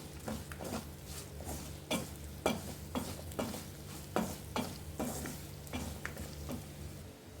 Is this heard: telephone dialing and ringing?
no